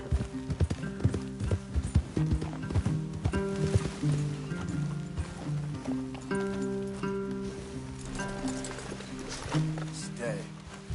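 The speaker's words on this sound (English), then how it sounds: "Get that horse under control, John." Horses in the game Red Dead Redemption 2 moving about, with irregular clip-clop hoofbeats close by, mixed with tonal game music and voices talking over them.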